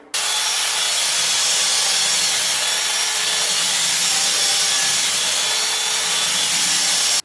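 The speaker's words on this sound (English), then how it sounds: "I've got my little scrubbing attachment on my drill, and we're going to go through this and quickly clean it" Power drill fitted with a scrubbing brush attachment scouring a kitchen benchtop, a continuous loud, close buzzing scrub that starts and stops abruptly with no talk.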